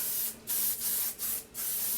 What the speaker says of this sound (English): I use the Moroccan Oil Protect and Defense spray, and it's like an aerosol spray